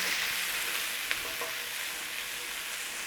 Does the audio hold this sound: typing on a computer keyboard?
no